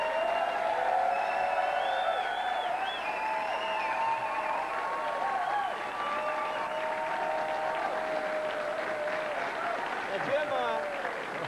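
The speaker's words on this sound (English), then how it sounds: "pay them to clap like that?" Studio audience of Saints fans applauding and cheering on a 1993 football coach's TV show, sustained clapping with whoops while voices talk over it.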